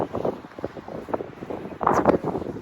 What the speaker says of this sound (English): It's been so windy, it's just been blowing it everywhere.